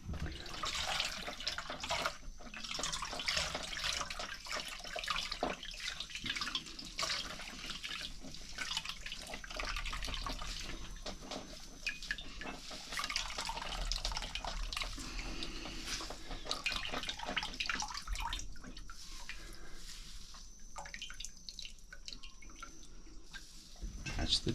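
Grated Tahitian chestnut gets a second wash in water, with a tap-like rush of running and sloshing water, drips and splashes going on steadily throughout, close by, with a voice talking over parts of it.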